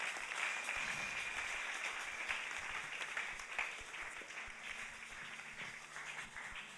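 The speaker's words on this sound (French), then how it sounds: "Est-ce qu'on peut applaudir l'Éternel des armées?" A church congregation applauds during a worship service, a dense, sustained clapping that stays fairly even and fills the room throughout, with no speech over it.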